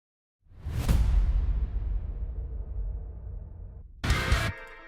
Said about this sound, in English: Together these impacts sound like this.